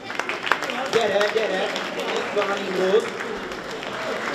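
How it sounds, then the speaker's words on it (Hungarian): Applause from an audience at a Hungarian school award ceremony as a first-grade prize winner is called forward, a steady wash of clapping running under a speaker's voice throughout. "Tapsoljuk meg ők is."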